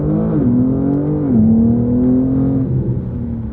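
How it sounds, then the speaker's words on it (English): BMW G8X with catless downpipes and exhaust flaps open, accelerating at full throttle: a loud, close exhaust roar whose pitch climbs, dips at a shift, then climbs again, with no talk. "another clip of driving full throttle forward with the flaps open"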